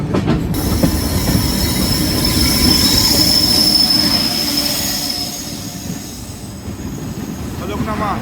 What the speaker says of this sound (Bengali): আর ট্রেন ছেড়ে দিল খুর্দা থেকে